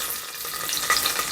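Onions and cashews tempering in hot oil, a dense bright sizzle crackling steadily through the short moment, close and fairly loud, no talking.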